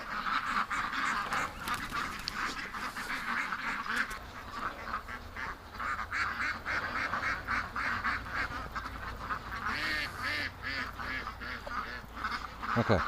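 A flock of ducks quacks continuously while being herded into a yard, loud, overlapping, close calls forming a dense, chattering clamor with no pauses, a few sharper honks standing out.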